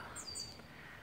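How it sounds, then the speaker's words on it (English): Small birds give a faint, brief chirp, a thin high call or two heard at a distance over quiet background hiss. "I was just watching little birds"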